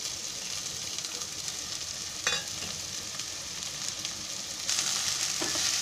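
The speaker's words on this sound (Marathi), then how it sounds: "हा पण कांदा कसा रोजच्या भाजीला आपण कांदा भाजतो ना, तसंच भाजायचा, असं लाल करायचं एकदम" Onion for spring onion bhaji fries in a pan with a continuous close sizzle, a brief spoon scrape partway through, and the frying growing louder near the end, with no voices.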